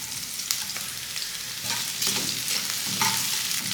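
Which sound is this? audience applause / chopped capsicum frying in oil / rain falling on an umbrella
chopped capsicum frying in oil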